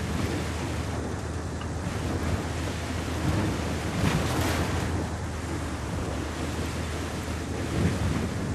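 Steady broadband wash of ocean surf in Ghost Recon Wildlands, a continuous rolling roar with gentle swells and windy hiss throughout, no talk over it.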